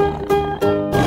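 A tiger gives a loud, close, rasping roar in a few harsh bursts lasting about a second, with no other sound around it.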